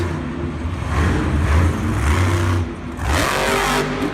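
A Monster Jam monster truck engine revs loud and close on an arena track during the 2018 Raleigh event, the roar rising and falling in two strong surges with crowd noise beneath.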